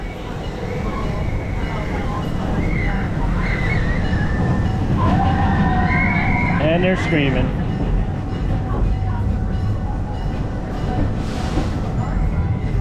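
Theme park train rolling on rails toward a station, a loud continuous rumble with a metallic squeal rising midway, while people talk over it.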